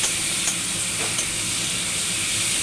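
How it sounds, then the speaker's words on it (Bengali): Semolina frying in a pan with roasted cumin powder and dry chilli powder while being stirred, a continuous close sizzle with occasional scraping strokes from the stirring, no voices. "সবটা একসাথে দিয়ে একসাথে ভাজা ভাজা করতে হবে ভালো করে নাড়াচাড়া করে"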